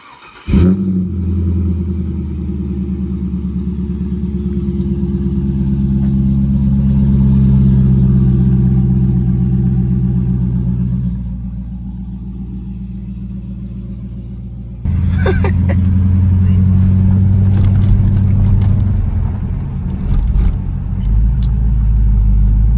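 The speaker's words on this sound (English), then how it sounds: "when I start the car" A Chevrolet C5 Corvette fires up with a sharp crank and catch, then settles into a loud, deep, steady idle rumble that dips slightly before picking back up, heard close with no talking.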